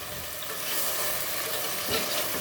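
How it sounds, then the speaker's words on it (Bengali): Garlic stir-fried for fish in a clay pot hisses in a steady, dense sizzle, close and moderately loud, with faint scraping of stirring and a slight swell near the end. "যাতে রসুনের উগ্র গন্ধ না কয় সেজন্য আমি একটু ভালোভাবে কষিয়ে নেব"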